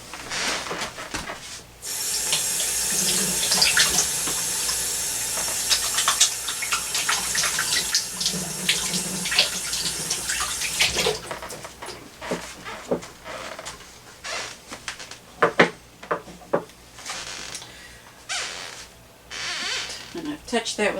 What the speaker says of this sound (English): Time to wash the hands.